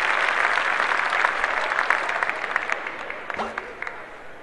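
An audience claps in the video game Torin's Passage: a dense, loud burst of applause that gradually thins into scattered individual claps as it dies away.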